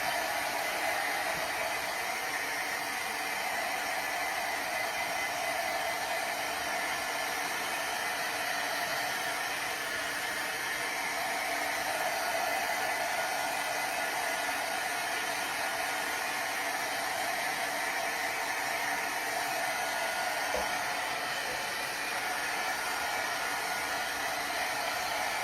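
A hair dryer blows steadily on a freshly painted item, a constant close whooshing hiss that runs alone without a break for the whole stretch.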